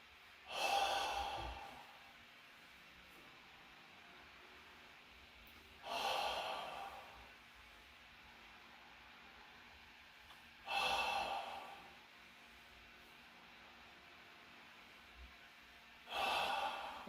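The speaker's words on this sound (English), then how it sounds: "It's always good to breathe out a nice sound." Loud breath exhalations during a guided meditation, four evenly spaced breathy sighs about five seconds apart, close and airy, with quiet pauses between them.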